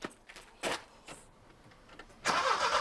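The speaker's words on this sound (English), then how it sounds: "It was only when I heard the engine start that I saw he was in the car." A car engine cranks and catches, heard fairly distant with a few faint clunks and door or movement sounds beforehand, then a sudden burst of broadband engine roar near the end.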